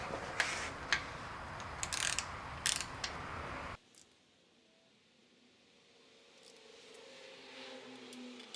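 A ratchet tightens the large front timing cover bolts on a Jeep 4.6 stroker engine: a short run of close, crisp mechanical clicks in the first few seconds, then a near-silent shop room.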